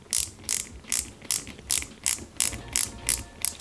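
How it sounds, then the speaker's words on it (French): Rapid ratcheting clicks from a hand tool driving a small screw into a part of a 1:43 IXO Collections Peugeot 205 GTI 1.9 model kit, about ten evenly spaced bursts, close and clear with no talking. "on la maintient proprement et on visse l'ensemble"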